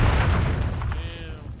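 Deep booming explosion from a bomb kill in Call of Duty Modern Warfare, a heavy low rumble that decays over a second or so, with game sounds trailing after.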